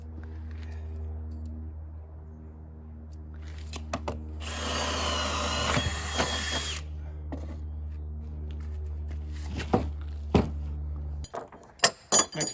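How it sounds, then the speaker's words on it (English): A power drill bores through a knot in wet wood while setting a mud sill on a DIY Nudura house build. It is one loud, grinding burst of a few seconds over a low background hum, followed by a few light clinks. "Nothing like drilling through a knot in wet wood."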